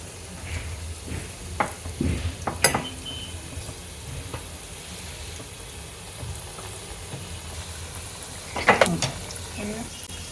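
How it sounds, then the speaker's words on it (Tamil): Wontons drop into hot oil and fry with a soft, steady sizzle, broken by a few louder clatters and splashy bursts, while a person talks over the cooking. "நாங்கள் எண்ணெயில் இதை இறக்கிக்கலாம்."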